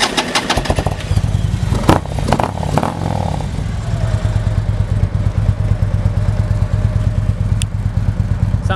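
A 2011 Harley-Davidson Electra Glide Classic touring motorcycle with 35,000 miles clicks and cranks, then its V-twin engine catches and settles into a steady, loud, close-up lumpy idle.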